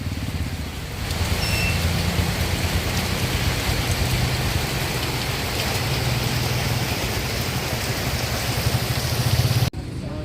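Heavy rain pours steadily during a typhoon, a dense continuous roar of drops on surfaces, with a low rumble of traffic underneath.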